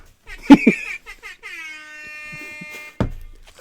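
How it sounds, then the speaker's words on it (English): A short blaring horn-like blast with a buzzy, electronic tone, followed by a sustained synthetic horn note that fades, with brief laughter around it. "your air horn sounds like an app"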